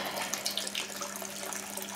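Water running through an alcohol reflux still used for making brandy from wine materials, a faint, steady trickling flow that continues without a break and without any talk.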